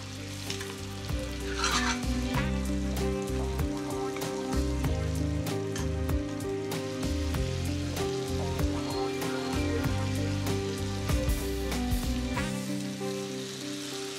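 Apples cooking in butter in a pan give a steady, close sizzle with occasional stirring scrapes, running continuously under background music.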